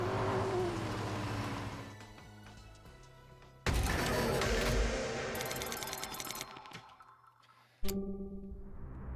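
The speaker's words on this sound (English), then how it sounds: "I heard Ku's car engine" A car engine in the video game Shuten Order revs and roars in several loud surges, cut by abrupt shifts and sharp bursts of action effects.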